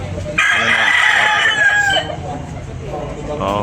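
A rooster crows once loudly and close, a long strained call lasting over a second, followed by softer clucking and farmyard background sounds.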